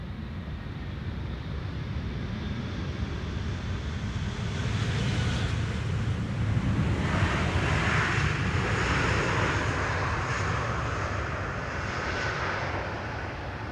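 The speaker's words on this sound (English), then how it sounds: "United Airlines, Flight 968, returning from San Francisco, 777-200." A United Airlines Boeing 777-200, Flight 968 from San Francisco, arrives on Schiphol's Polderbaan runway 18R with a steady broadband jet roar that swells mid-pass and then holds, heard alone without talk.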